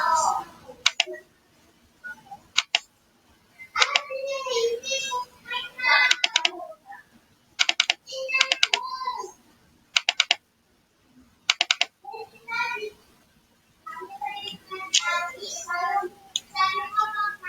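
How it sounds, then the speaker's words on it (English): Bursts of rapid key clatter from a laptop keyboard as code is entered, alternating with a person talking between typing runs, close and moderately loud. "So we finished typing the whole code."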